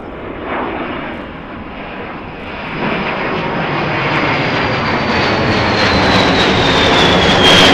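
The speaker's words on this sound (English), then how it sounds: "How many other shows would you see a Me-262 followed by a B-52 takeoff?" B-52 Stratofortress bomber taking off at the RIAT 2023 air show, a loud, steady jet roar that swells and builds as the aircraft accelerates, with a rising whine over the top.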